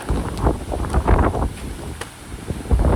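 Steady, blustery wind roars across the microphone at a fishing pond, buffeting in uneven gusts with a low rumble throughout; no voices.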